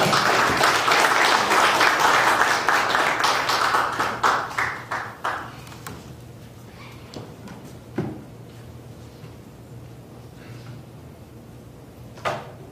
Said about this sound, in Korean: 우리 한번 환영하면서 다시 박수하면서 감사하겠습니다